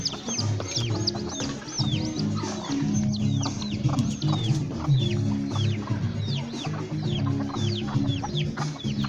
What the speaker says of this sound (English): The rooster is over here.